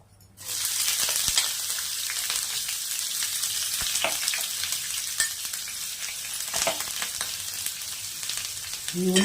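Onions fry in hot oil with cloves and cinnamon for a mushroom curry, a steady close sizzle starting abruptly and continuing throughout, with occasional scraping stirs and no talk.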